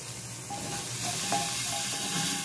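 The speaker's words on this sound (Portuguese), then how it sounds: "Como já está bem quentinha, eu vou colocar a cebola." Onion frying in hot oil in a pan gives a quiet, steady sizzle and hiss with faint bubbling, close by and unbroken.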